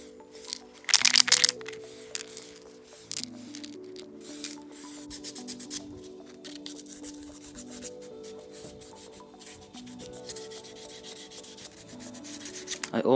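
Close, rhythmic rubbing and scraping of sandpaper against a wooden tree-fork slingshot, steady back-and-forth strokes with an occasional sharper crack.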